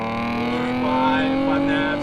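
A car on a 98 tune making 282 wheel horsepower pulls hard in second gear from 3,500 rpm at full throttle, its engine note rising smoothly and loudly as someone talks over it.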